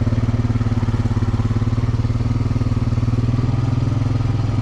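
An ATV engine runs steadily and close by on a trail, with a constant low rumble and a pulsing rhythm throughout.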